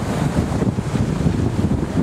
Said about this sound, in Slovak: jak nám vlny rozbijajú predok